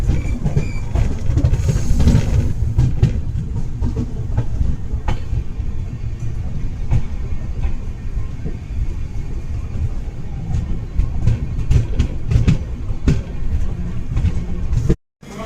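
Champaran Satyagrah Express rolls into Hapur Junction on a foggy day, its wheels rumbling and clattering steadily over the rails, loud and close throughout.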